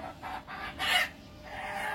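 A domestic hen kept on a flat's balcony gives a few soft, faint clucks in short bursts, with one slightly louder call near the middle, no voices over it.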